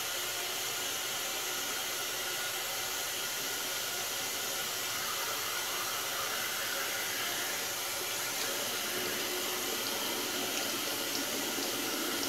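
Tap water runs steadily under a faucet as a Parker SRX shaving item is rinsed, a continuous broadband rush with no break for about twelve seconds.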